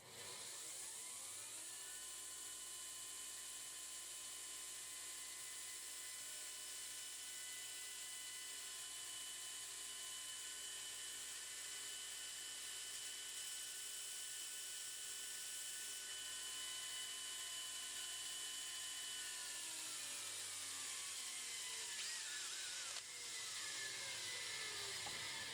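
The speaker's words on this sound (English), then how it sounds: "basically I'm just running that up against the belt sander" A belt sander polishes and chamfers steel firework awls at 240 grit, droning with a steady high mechanical whine close by that holds for about twenty seconds, then its pitch sags as the machine spins down and runs again.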